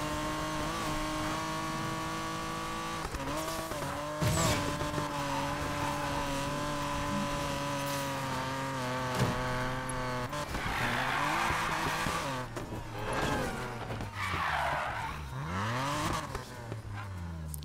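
A car drifts in Need for Speed Payback, engine droning and rising through the gears while tires squeal in long bending screeches, loud and continuous with scattered impacts.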